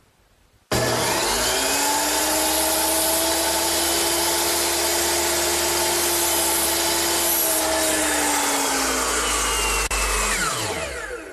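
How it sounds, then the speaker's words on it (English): A circular saw tilted to a 13-degree bevel cuts through wooden roof rafters in one long, loud, steady whine that starts abruptly and winds down at the end. "Now I'll just tilt my saw to 13 degrees, the same bevel that we used on the ridge and the fascia, and that'll be the right cut for the rafters."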